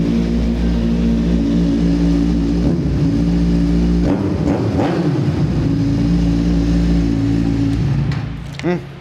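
A Kawasaki Z1000 motorcycle engine runs loud and close, holding a steady rumbling idle before a couple of sharp revs near the end, with a person speaking under the engine noise.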